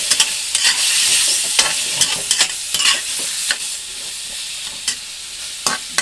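Pork sautéing in a pan for a vegetable dish: a loud, constant sizzle broken by frequent sharp clicks and scrapes as the spatula stirs the meat, near and without voices.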